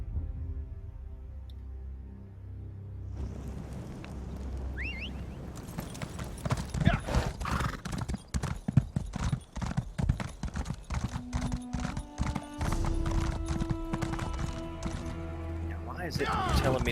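Horse hooves clip-clopping at a steady rhythm while riding in the video game ESO, close and continuous over an ambient game soundscape and music, with a short whinny near the start.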